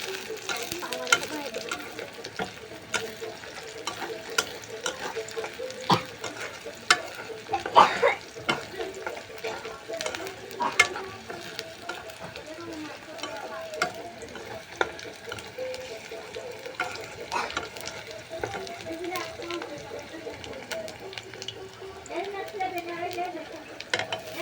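Onions and chilies fry in a pan for egg pasta, giving a steady crackling sizzle with stirring scrapes throughout, close and continuous with no talk.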